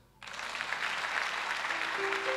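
A church congregation bursts into applause during a prayer service, sudden onset then sustained loud clapping from a large crowd, with a faint sustained tone entering near the end.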